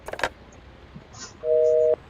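Glitchy telephone line in the video game KONA: a short rustle and click, then a loud steady two-tone electronic beep holding for about half a second before cutting off abruptly, with no voices.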